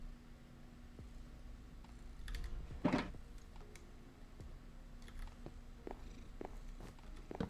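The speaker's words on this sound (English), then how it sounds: "You purr really loud, Mr. Man." A pet cat named Mr. Kitty Cat purrs steadily with a low continuous rumble, close and fairly quiet, under light keyboard-like clicks and a louder rustle near the middle.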